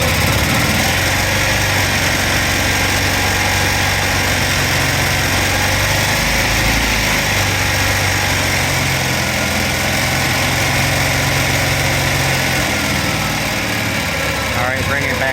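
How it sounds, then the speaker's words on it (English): A small engine revs up to a steady high drone and then settles back toward idle, running continuously and loudly close by. "So now let's rev the engine up a little bit"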